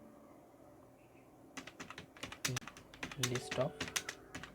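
Fingers type a file name on a computer keyboard, a burst of quick, close clicking keystrokes following a quiet moment, with a few spoken words underneath.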